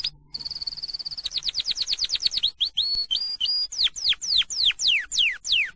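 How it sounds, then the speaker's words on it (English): Canary singing alone and close, a long rapid series of bright trills and chirps that shift into repeated descending whistled notes, steady and loud throughout. "You cannot imagine how wonderfully he sang. It was not like the singing of other canaries"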